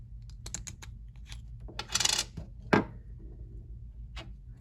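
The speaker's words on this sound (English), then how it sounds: "Go ahead and pull the shell apart" A flathead screwdriver pries apart the plastic shell of a Chevy Tahoe key fob, giving a quick run of sharp clicks and plastic snaps, then a louder crack as the shell gives way, close up with no talk.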